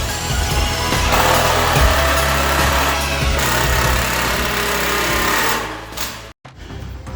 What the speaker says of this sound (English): as the drill spins, turn that angle and then drill in